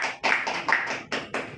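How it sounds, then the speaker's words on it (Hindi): An audience claps in a series of separate bursts of hand claps, each short and fairly close, with brief dips between them. "सबको एक बार ताली बजाइए"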